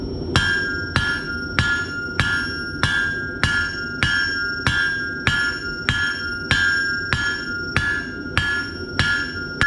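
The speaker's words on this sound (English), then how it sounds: "I'm going to hammer on the corners to make that square taper octagonal" Steady rhythmic hammer blows on the corners of a hot steel bar, about one strike per second, loud and close with a bright metallic ring.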